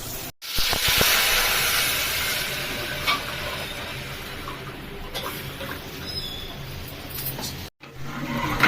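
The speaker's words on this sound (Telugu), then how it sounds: "నేను ఇంక ఇప్పుడు కొంచెం దీన్ని మంచిగా మరగనియాలి ఇంకా చారంతా చేసుకునే వరకు" Tomato rasam, seasoned with green chillies, salt and chilli powder, simmers in a pot with a steady hiss and bubbling sizzle, a few soft clinks and stirring knocks breaking through a close, continuous cooking texture.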